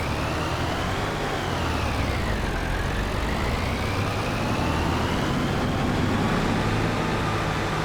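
A heavy tractor engine runs steadily close by, a continuous low rumbling drone with a faint rising and falling whine and no voices over it.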